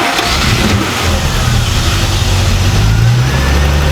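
A Triumph TR6 engine, loud and close, starting up and running with rising revs that give a steady throaty roar through the whole stretch, with no voices over it.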